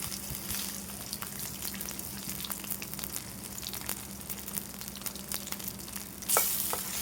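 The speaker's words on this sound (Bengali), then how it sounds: "আমি তেল দিয়ে দিছি। এখন এটা দিয়ে দিব, দিয়ে ভেজে নেব।" Shrimp sizzle and crackle in hot oil with green chillies, a steady frying hiss with occasional pops and a brief louder spatter near the end.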